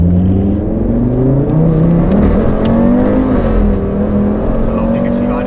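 Audi RS3 five-cylinder turbo accelerating hard through the gears, engine note climbing steadily in pitch with brief dips at shifts, loud and continuous from inside the car while people talk over it.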